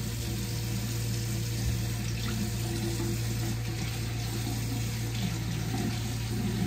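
Water runs steadily from a bathroom tap into a sink, a constant rushing hiss with a low hum beneath it.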